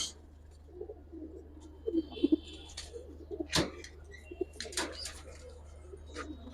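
Giribaz and high flyer pigeons coo in soft, low murmurs close by, with a few brief wing flaps and sharp rustles breaking through.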